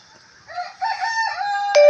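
A rooster crows once, loud and close, its call rising and holding before a sharp final burst, with no talk over it.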